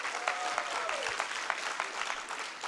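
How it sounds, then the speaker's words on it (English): Applause from an audience at a school debate knockout, following announcement of judges' scores; dense steady clapping fills the whole stretch at moderate level, with no voices over it. "A round of applause, please."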